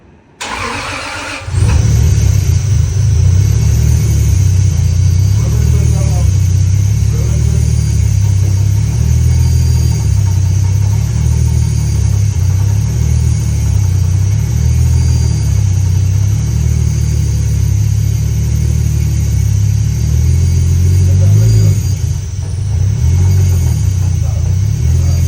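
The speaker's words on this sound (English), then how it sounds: "In the last clip, you guys just saw my car start" A Toyota Supra engine with a new GTE block cranks briefly, catches and settles into a loud, steady, rumbling run close by, holding a constant throaty drone with a slight waver near the end.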